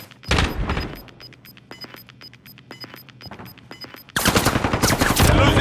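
Video game gunfire: sharp individual shots ring out at a steady pace over a low hum, then a dense, loud burst of rapid fire erupts near the end.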